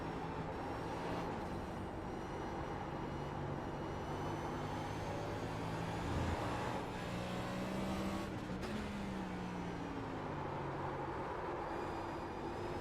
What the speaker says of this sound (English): Can hear my tires just sliding.